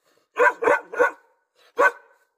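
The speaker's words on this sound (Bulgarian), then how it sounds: "Това е кучето на съседа." A neighbour's dog in a village barks close by: three quick sharp barks in a row, a short pause, then one more bark, with no other sound around them.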